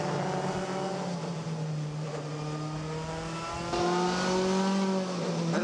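WTCC touring race cars screaming around the Losail circuit in Qatar during a race, a continuous loud engine roar with rising harmonic pitch as they accelerate, growing louder near the end.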